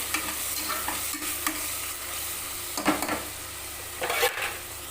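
Tomato and ginger-garlic paste sauté in a pan for chicken samba rava biryani: a continuous sizzle is broken by several scraping stirs of a spoon against the pan, with no speech.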